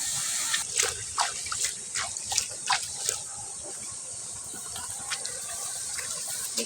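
Water splashing and dripping as leafy greens (shak) are rinsed by hand in a home kitchen, with scattered irregular splashes and trickles over a steady hiss, fairly close and moderately quiet.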